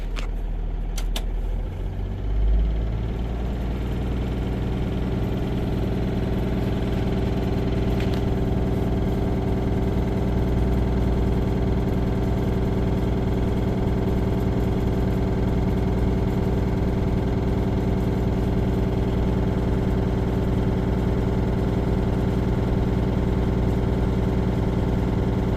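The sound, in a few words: 2024 Freightliner S2C truck engine idling after restart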